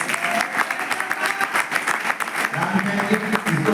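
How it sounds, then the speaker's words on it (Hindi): An audience claps for a district collector at a public event, producing dense, continuous applause from many hands at a steady level throughout, with some voices mixed in. "कलेक्टर साहब के लिए तालियां बजाइए।"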